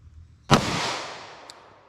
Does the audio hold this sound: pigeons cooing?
no